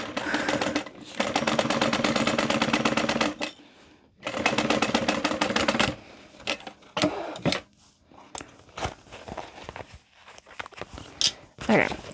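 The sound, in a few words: sewing machine stitching a handbag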